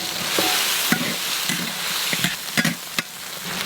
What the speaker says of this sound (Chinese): 把鸡爪炒一下，外边炒的焦焦的